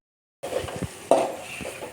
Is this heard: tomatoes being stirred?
yes